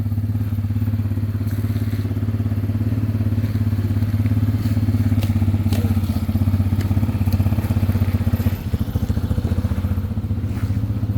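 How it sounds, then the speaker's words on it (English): Tao Tao Bull 200 ATV with a carburetor being ridden nearby, giving a continuous low engine putter and drone with slight rises in revs and occasional clatter. "All right, let Chris ride for a minute"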